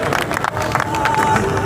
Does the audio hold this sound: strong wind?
no